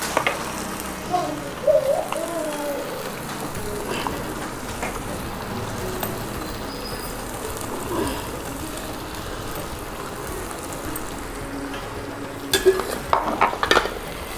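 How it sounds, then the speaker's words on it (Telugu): Ginger paste and ground spices fry in oil in a pan, giving a soft, continuous sizzle with occasional stirring scrapes and a few sharper clatters near the end. "ఇవన్నీ కొద్దిగా ఆయిల్లో వేయించుకుంటే పచ్చి వాసన ఉండదు"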